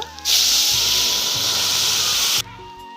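Potatoes dropped into hot oil with browned onions for aloo dum burst into a loud, steady hiss that starts abruptly, holds for about two seconds, then cuts off sharply.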